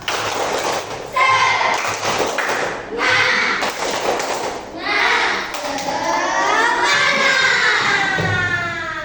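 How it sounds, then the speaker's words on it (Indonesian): A primary school class of young children does a rhythmic 'tepuk semangat' clapping chant, with loud thumping claps and taps in patterned bursts mixed with the children's chanting voices. "Ayo, tepuk semangat"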